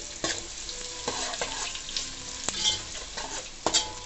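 Bay leaves and whole spices crackle in hot oil for a chicken gravy, a dense close sizzle broken by repeated sharp ladle taps and scrapes at irregular intervals.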